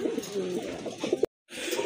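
Pigeons coo softly nearby in a few low, warbling calls, then a brief silent gap before the cooing resumes.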